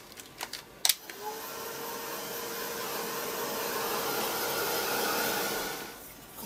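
Hair dryer blowing on yellow paint to dry an art journal page, a few clicks and taps at first, then a steady, close, continuous whooshing roar that runs for about five seconds before it cuts off.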